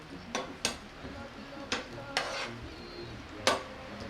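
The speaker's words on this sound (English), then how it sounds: "So we'll fry a little." Chopped onions and garlic fry quietly in a pan, a soft low sizzle broken by several sharp clinks of a utensil stirring against the pan.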